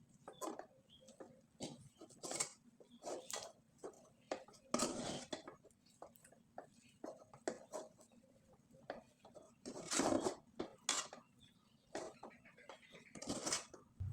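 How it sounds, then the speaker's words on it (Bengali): Rice dough is stirred in a pot on a stove over low heat for rice pitha, making irregular close scrapes, clinks and knocks of a spoon against the pot in quick uneven bursts. "তাই চুলার আঁচটা একবারে কম করে দিয়ে এভাবে কিন্তু নেড়েচেড়ে ডোটাকে ভালোভাবে সিদ্ধ করে নিতে হবে"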